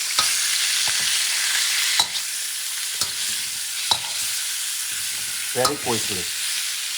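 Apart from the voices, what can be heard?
vegetables stir-frying in a hot pan, Thai vegetable stir fry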